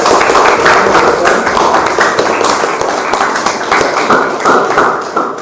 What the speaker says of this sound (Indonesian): Berikan aplaus meriah buat Dr. Mona Lisa.